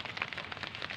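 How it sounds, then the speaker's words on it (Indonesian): Heavy rain falling steadily outdoors at a fishing spot, a dense continuous patter with no voices. "Aduh, hujan deras kawan."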